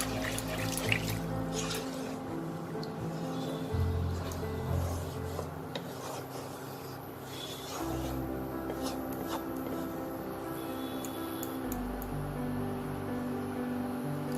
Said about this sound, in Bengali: এখন এতে আমি একদম অল্প জল দিয়ে দেবো।